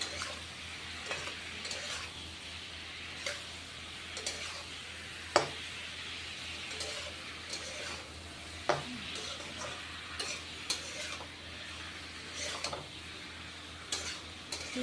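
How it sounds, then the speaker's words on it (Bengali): Ash gourd slices fry in a pan with salt and turmeric, a steady close sizzle broken by regular sharp taps and scrapes of a spatula. "এটা হচ্ছে চাল কুমড়োর ভাজা করতেছি আমি।"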